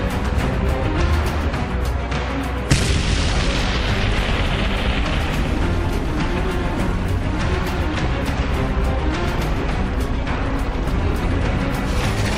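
Heavy tank cannon fire in a Battle of Kursk reenactment: a continuous loud wash of booms and rumbling battle noise, with one sharper blast early on and no talk.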